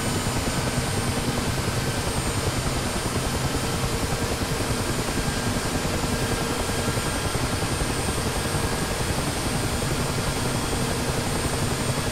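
Mi-8 helicopter turbine engine and main rotor running up during a cold start in a flight simulator, a loud, steady, dense whine and rotor thrum filling the whole stretch without pause.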